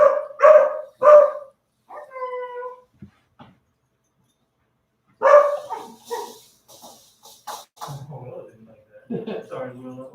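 A puppy barks and yips in short bursts during an indoor puppy training class, its sharp calls mixed among people talking nearby and a gap of quiet in between.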